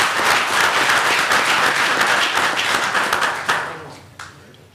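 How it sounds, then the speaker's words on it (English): Audience applause at a university board of trustees meeting, a dense, steady roar of many hands clapping close by, fading out over the final second with a few scattered claps. "I was clapping"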